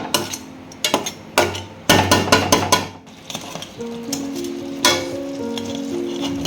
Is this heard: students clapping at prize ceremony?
no